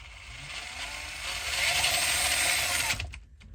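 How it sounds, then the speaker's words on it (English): A Surpass Hobby Rocket 540+ V2 5-slot 16T brushed RC crawler motor with stock 18-tooth gearing whines steadily at close range, rising slightly in pitch and intensity before cutting off abruptly near the end. "I mean, sounds like a motor"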